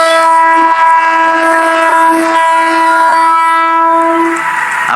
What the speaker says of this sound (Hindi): अभनपुर से ये ट्रेन रवाना हुई है।